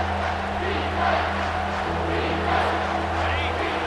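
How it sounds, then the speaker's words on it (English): A football stadium crowd roars steadily on third down during a Penn State versus LSU game, a dense, sustained wall of noise with small swells and a low steady hum underneath. "this crowd will blow out a vocal cord to help this defense"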